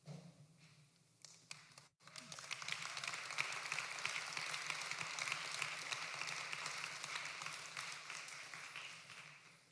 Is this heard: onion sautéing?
no